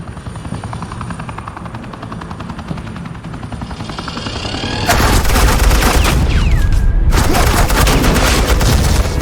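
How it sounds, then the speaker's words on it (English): Loud, rapid gunfire in a Batman video game, a dense fusillade building over a steady helicopter-like drone, with bursts crackling continuously for several seconds. "suppressing fire."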